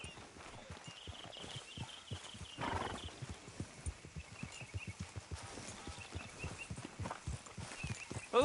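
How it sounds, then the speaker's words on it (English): Horse hooves clip-clopping in a steady walking rhythm during riding in a video game, close and clear, with a short whinny partway through and faint game ambience behind. "Grab your horse and let's go."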